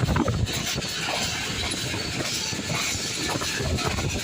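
Awam Express passenger train with a Chinese-built locomotive running at good speed through Budhu railway station in fog and rain, a steady loud rumble and rattle of wheels and carriages with faint hiss, continuous throughout.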